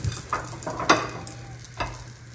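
Shrimp tempura being batch-fried in hot oil, a steady crackling sizzle with a few sharper pops and stirring clinks, close and moderately loud, no talking.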